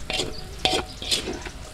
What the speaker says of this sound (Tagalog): Mix ko po ito sandali mga studio.